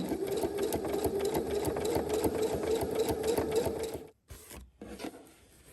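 A sewing machine stitches a small zigzag in a steady, close, rapid mechanical chatter for about four seconds, then stops abruptly, followed by a couple of brief quieter whirs.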